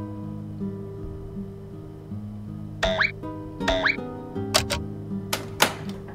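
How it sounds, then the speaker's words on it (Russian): In the video game Witch's House, a few sharp clicks like a lock opening sound over a steady, soft tonal music bed. The clicks come in short bursts spaced over a couple of seconds. "Неподалеку раздается щелчок, похожий на звук открывавшегося замка."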